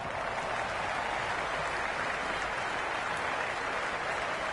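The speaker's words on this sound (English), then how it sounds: "The crowd is electric right now" A cricket crowd at a Big Bash League match applauds, a dense, continuous wash of clapping and cheering that stays even and full throughout.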